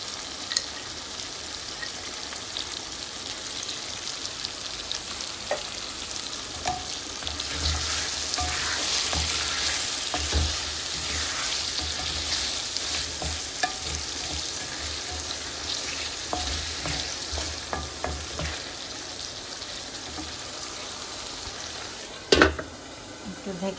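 Potato and bitter gourd curry with prawns sautéing in a pan, a continuous crackling sizzle with repeated stirring scrapes, close and steady for over twenty seconds, ending with a sharp clatter.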